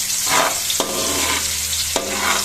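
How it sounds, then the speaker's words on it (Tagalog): Onion and garlic sauté in a hot pan with a loud, steady close sizzle, broken by a couple of sharp stirring scrapes. "tayo po nagigisa na po ng sibuyas at bawang"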